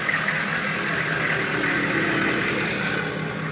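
A dually pickup truck with new exhaust and recent body work, its engine idling in a steady, continuous low rumble at close range, with no one speaking.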